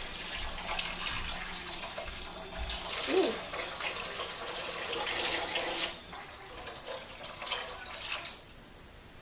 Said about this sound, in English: I'm going to go ahead and start adding my water to it